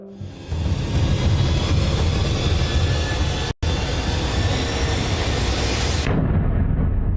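A loud, sustained roar of gunfire or explosive blast filling the scene during an armed police response to a robbery where a gunman holds a gun to a guard's head, with a brief sharp cutout midway before the din continues and ends abruptly.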